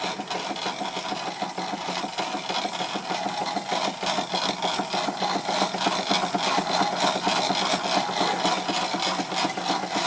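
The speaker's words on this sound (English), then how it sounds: "The only noises coming from that angled gear there, that right angled gear, just there." A Stuart Victorian model mill engine drives a Wilesco fairground model, its right-angled gear meshing with a steady, dense mechanical whirr and rapid rhythmic clatter, close and continuous with no talk.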